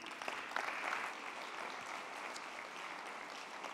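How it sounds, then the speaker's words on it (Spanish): Audience applause at a mobility awards ceremony, a steady wash of clapping from a crowd, fairly faint and distant, sustained throughout. "Un aplauso."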